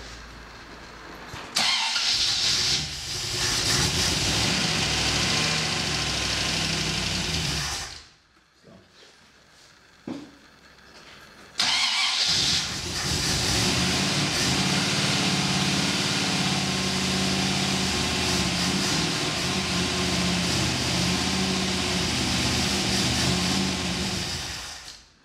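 A Triumph TR8 engine cranks and catches into a loud, close running roar, cuts out briefly to near quiet with a few clunks, then fires again and keeps running strongly until it stops.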